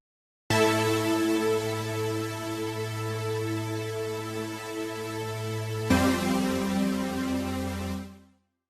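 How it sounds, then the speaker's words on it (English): A sustained synth keyboard chord rings steadily, shifting to a new chord about halfway, then cuts off cleanly; bright digital tone, no talking. "So it's just adding in a little bit of a digital keyboard sound."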